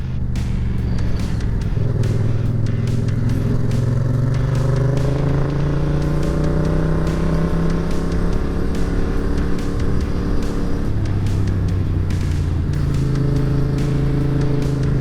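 A 2019 Yamaha MT-07 motorcycle rides through twisting corners, its engine droning loudly and steadily while the pitch rises and falls with each change of throttle, accompanied by constant wind rush.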